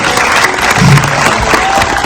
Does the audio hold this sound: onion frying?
no